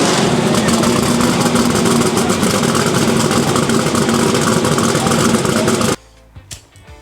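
A Turbo 481X or screw-blown Hemi engine idling, a loud, heavy, lumpy rumble held steady for about six seconds before cutting off abruptly, leaving faint knocks and quiet room sound.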